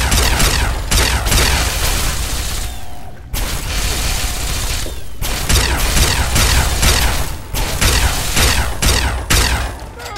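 Dense, loud gunfire in the Fallout 3 video game fills the scene, with rapid overlapping shots, bursts and mechanical clatter continuing almost without pause throughout a battle.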